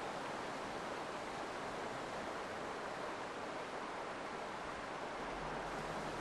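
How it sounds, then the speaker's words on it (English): Rough, dangerous river about 30 meters wide in Serengeti National Park, rushing steadily as a dense, unbroken roar of water, loud and constant throughout with no voices. "The sound of the rough stream depresses their spirits"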